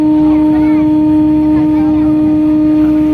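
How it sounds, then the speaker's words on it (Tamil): A deep, loud horn from a roll-on roll-off ferry at Fort Kochi blasts continuously and steadily, close by, with faint background noise beneath it. "அங்க குறுக்கு இது வருது, அதனால ஹார்ன் அடிக்காங்க."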